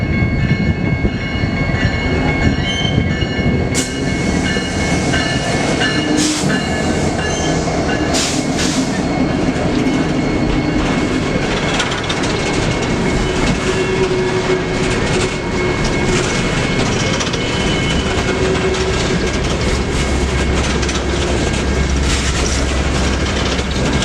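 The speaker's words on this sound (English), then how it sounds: "this empty westbound coal drag headed back to the Powder River Basin" An empty westbound coal train heads back to the Powder River Basin, passing close with a continuous loud rumble of railcars, rhythmic wheel clatter and occasional high squeals and clanks.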